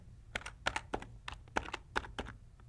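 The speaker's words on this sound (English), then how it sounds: "I'll go ahead and type in my URL" A URL is typed on a computer keyboard, a quick uneven run of crisp key clicks, close and fairly quiet, with no talk.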